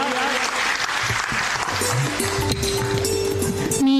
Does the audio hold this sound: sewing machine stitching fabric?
no